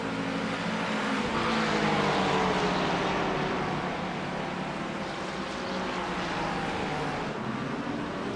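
GT3 race cars, a purple and white Porsche and a Ferrari, roar around Hockenheim in a sim racing game, a steady loud engine drone with shifting pitch as the cars run close together.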